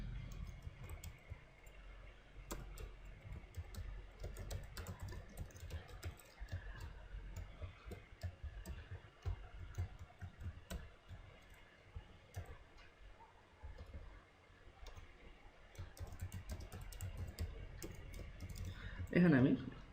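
Steady clicking keystrokes on a computer keyboard run throughout, faint and close, with someone speaking in Bengali over the typing.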